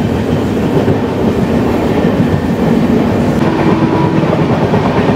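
Shalimar Puri Dhauli Express train running steadily, a continuous loud rumble and rattle of wheels on rails heard from inside the coach, with no voices.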